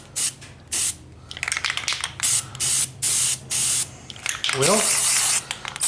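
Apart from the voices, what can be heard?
spraying cheap Rust-Oleum truck bed liner from a can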